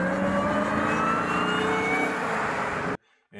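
A Chrysler 300C's upgraded exhaust revs in a loud, sustained roar for about three seconds, then cuts off abruptly, leaving near silence and a faint tail.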